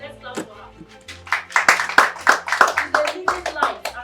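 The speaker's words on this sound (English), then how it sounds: "Please let's clap for her." A small gathering at the commissioning of a shelter in Lagos claps, sharp irregular hand claps that build into a quick, uneven burst, with voices murmuring beneath.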